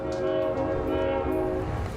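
A freight train hauling crude oil rolls past a house in Davis, California, its steady rumble joined by a sustained horn blast, loud and close throughout.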